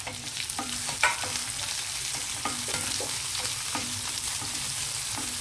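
Onion pieces go into a hot pan for gongura chutney. A constant low sizzle runs throughout, broken by regular, rhythmic scraping taps of a stirring spoon. No one speaks.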